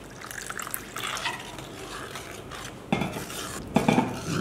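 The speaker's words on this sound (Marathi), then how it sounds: "यात हवं तर थोडंसं पाणी घालूया आपण" Water poured into a pan of coriander mixture and stirred with a spoon, giving soft scraping and clinking against the metal with a couple of louder splashy knocks near the end.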